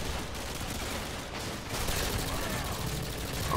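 Sustained, loud machine-gun fire in Modern Warfare 2 on Veteran difficulty, a dense unbroken rattle of shots that swells slightly partway through, with no voice over it.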